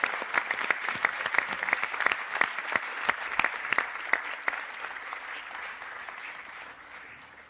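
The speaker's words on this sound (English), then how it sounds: "perhaps give them a round of applause" Graduates at a Sligo conferring ceremony applaud their supporters, a dense steady patter of many hands with sharper individual claps on top, tapering off gradually toward the end.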